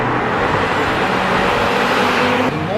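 A 2025 Audi RS3 being driven hard through corners, its engine and road roar a steady, loud, close wash of sound with no break.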